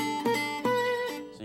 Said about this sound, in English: So you get some buzz, you get the open string in between.